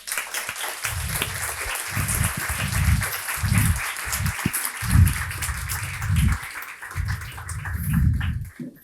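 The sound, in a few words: audience applause welcoming guest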